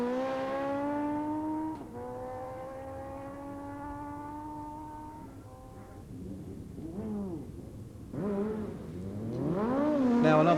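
Streetbikes on a drag race run at Blyton, with a sustained high engine whine held through gear changes, followed by rising and falling revving passes and a loud, close acceleration at the end.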